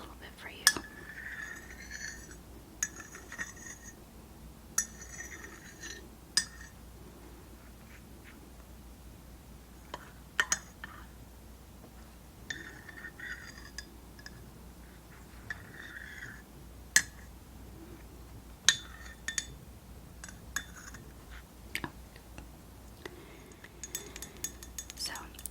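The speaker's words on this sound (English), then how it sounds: "And stir this in a little bit for you." A spoon stirs a drink in a glass, giving soft, sparse clinks and taps spread irregularly over a quiet, hushed background.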